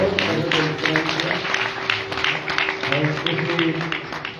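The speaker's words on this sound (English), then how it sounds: "Clapping." A crowd at an evening Srimad Bhagavatam Katha gathering in Gujarat claps steadily and densely throughout, with voices and a faint tonal hum mixed underneath.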